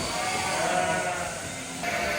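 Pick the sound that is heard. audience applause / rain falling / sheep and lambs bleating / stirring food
sheep and lambs bleating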